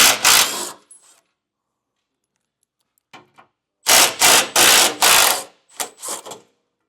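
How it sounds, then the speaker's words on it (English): A ratchet wrench loosening skid plate bolts underneath a 2015 Toyota 4Runner, heard as loud, close bursts of rapid clicking in several separated runs with silent pauses between them. "So I'll get these two front bolts removed."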